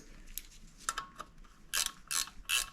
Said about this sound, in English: you're just kind of stuck with turning it manually with a wrench like this